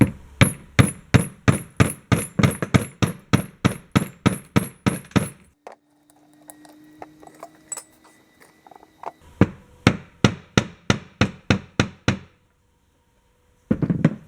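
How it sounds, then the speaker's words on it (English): A dead blow hammer drives a ground rod into a transmission bearing bore on an early Wheel Horse tractor. The blows are loud, rapid and evenly spaced, and they come in two long runs separated by a pause with faint scraping. "I'm going to bump it in there with a dead blow hammer"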